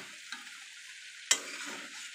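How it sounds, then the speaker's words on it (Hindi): Paneer frying in a pan for restaurant-style kadai paneer makes a quiet, steady sizzle, with one sharp clink or flip partway through. No one speaks. "पनीर जो है वो हमारा फ्राई हो रहा है,"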